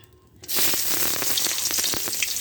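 Chopped onion dropped into hot oil in a pan already holding lightly salted prawns for a taro-greens dish, bursting into a loud, steady close sizzle after a quiet moment, with small crackles and no talk.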